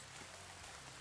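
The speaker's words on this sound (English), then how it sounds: "It's raining." Rain falling in the video game The Forest, a steady, even hiss of dense rainfall, faint and continuous with no other sounds.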